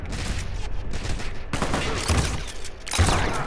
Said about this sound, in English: I got you, I'm shooting them with you, TP.